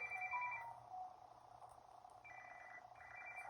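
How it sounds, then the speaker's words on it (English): A phone ringtone rings through a room, a repeating electronic ring sounding in two bursts with a pause between them, moderately loud over a faint background hum. "Oh, he got a phone call."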